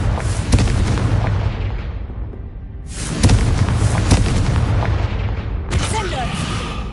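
Confringo spell explosions in Hogwarts Legacy, three loud booming blasts in quick succession, each decaying into a rumbling tail of debris and crackle.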